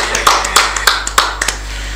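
A few people clap sparsely at a Hari Santri podcast session, with irregular sharp hand claps spaced unevenly, close and distinct, tapering off toward the end over a steady low hum.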